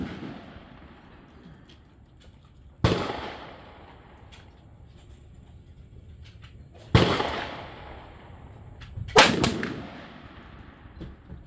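A .22LR rifle fires three separate sharp gunshots outdoors, each a few seconds apart. Every crack is loud and close, followed by a short fading tail.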